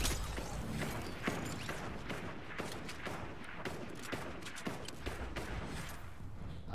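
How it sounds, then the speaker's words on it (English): Gunfire in the video game Fortnite, irregular sharp shots and short bursts cracking over a busy, dense background, some close and loud, others fainter. "I cannot tell where they are shooting at you from."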